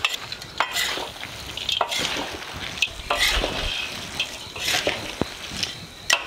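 Spicy crayfish stir-fried in a wok with leek, celery, onion and cucumber strips, a steady sizzle under repeated scraping stirs and occasional clinks of the spatula against the pan.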